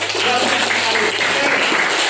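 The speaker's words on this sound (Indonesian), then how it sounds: "Beri tepuk tangan untuk tadi Anggun yang sudah menanggapi dan" A classroom of students applauds a student group that came to the front, a short burst of steady, fairly loud clapping filling the room for about two seconds.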